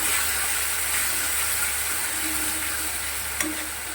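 Ginger, cumin and coriander paste sizzles in hot oil with deep-fried onions for a Bengali katla fish kaliya, giving a steady, close, dense hiss with faint stirring, plus one brief sharper crackle near the end.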